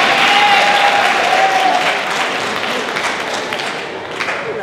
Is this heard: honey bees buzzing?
no